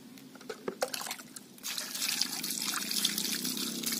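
Robusta Gayo coffee beans are washed by hand: a few wet, squishy stirring sounds come first, then a close, continuous pour and trickle of water over the beans.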